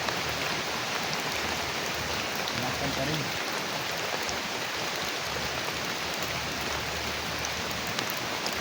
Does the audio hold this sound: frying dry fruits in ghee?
no